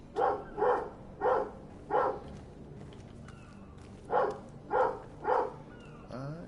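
A dog barks in the background of a video game set aboard ship. There are two separate runs of four sharp, evenly spaced barks with a short pause between them, at moderate distance, and there is no talking.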